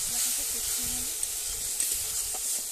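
Onion paste, chili powder and turmeric fry with a splash of water in a pan, giving a soft steady hissing sizzle with faint stirring sounds and a quiet hum in the background.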